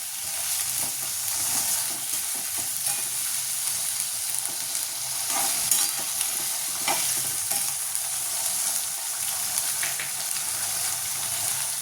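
Mixed vegetables for a Maharashtrian twelve-vegetable bhaji, sugarcane pieces among them, sizzling steadily in a pan while being stirred, with a continuous close hiss and occasional scraping strokes throughout.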